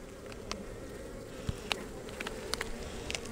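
Honeybees droning steadily around an open hive during a winter-prep inspection, a continuous close buzz with occasional louder individual bees passing near, no voices.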